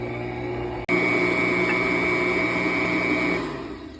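Electric stand mixer beating honey bun dough with salt, a steady loud motor whir with a brief dropout near the start, then running evenly before easing off at the end.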